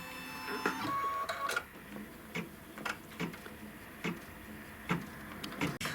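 An embroidery machine stitching a stipple quilting pattern across a pillow background, a steady mechanical whir punctuated by regular ticking thumps and small motor shifts, close and alone.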